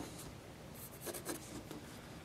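A pencil scratching detail lines onto a wood carving of Saint Nicholas, a close, quiet scratchy rubbing in short repeated strokes with no talking.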